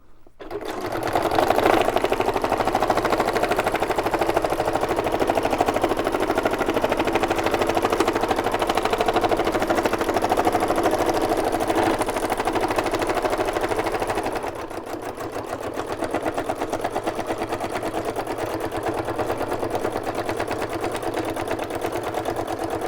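A sewing machine free-motion stitches a journal cover with a long stitch length, a loud, continuous close-up mechanical whir that drops slightly in level partway through and then carries on steadily.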